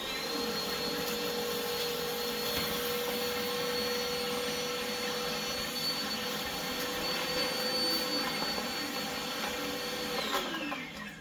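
A household vacuum cleaner runs close by in a home kitchen during Thanksgiving meal preparation, giving a loud, steady whining roar throughout. Near the end the pitch drops slightly and the sound starts to fade.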